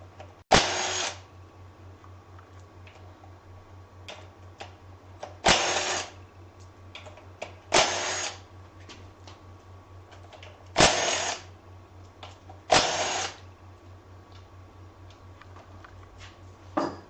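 Short cordless impact wrench bursts remove bolts during a teardown of a 5.3 Vortec V8 engine, five loud rattling hammer bursts of about half a second each at irregular intervals, with a low steady hum and quiet handling clatter between them.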